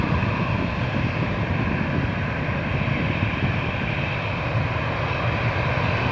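An Airbus A340 takes off at Lisbon Airport, its engines giving a steady, broad roar that holds level throughout with no voices.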